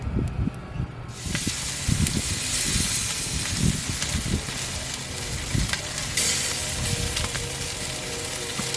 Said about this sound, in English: I have now placed my pork chops over here on the grill